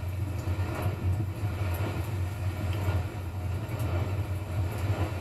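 Steam boat engines in the Stormworks video game drone steadily in a loud, continuous low rumble with a constant deep hum and no breaks.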